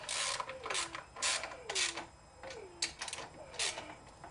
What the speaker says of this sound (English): Grab my little socket wrench here.